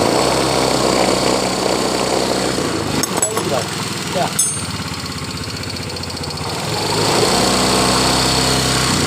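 A Yamaha Mio scooter engine idles steadily while warming up from cold, a loud continuous buzzing drone close by, with a short spoken word partway through.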